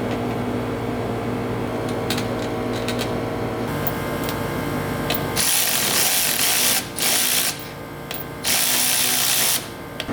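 A battery is bolted onto a go-kart with hand tools, giving bursts of whirring, ratcheting tool noise over a steady hum, with gaps between the runs.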